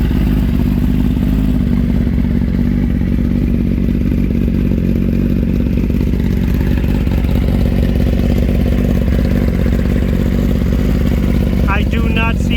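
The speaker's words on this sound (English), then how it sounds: "Engine sounds healthy, runs as it should," A 2021 Kawasaki Ninja ZX-10R KRT ABS Edition sport bike runs with a steady, loud low engine drone that continues throughout, with some mechanical clatter and people talking over it.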